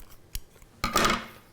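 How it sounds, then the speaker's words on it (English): Scissors snip through packaging for PC build parts, a faint click followed by one louder, close cutting crunch that fades out quickly. "let me grab some scissors so I can open that up"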